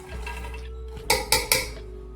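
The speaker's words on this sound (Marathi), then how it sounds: "सर्व भाज्या कट करून झाल्या आहेत त्या मी कुकरमध्ये टाकून घेते" Chopped vegetables going into a pressure cooker, a soft low rumble and then three sharp metallic clanks in quick succession, close by and with no talking.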